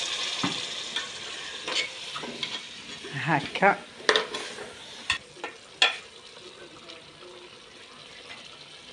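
Onion with a splash of water sizzles gently in a pot on the stove as a utensil scrapes and stirs it in scattered knocks, faint and close, with someone briefly speaking.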